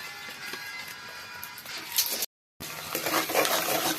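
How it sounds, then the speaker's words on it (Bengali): Onions fry and sizzle in a pan at night while meat is being cooked, with scraping stirring strokes close by and a brief silent gap midway. "পেঁয়াজ ভাজা হচ্ছে"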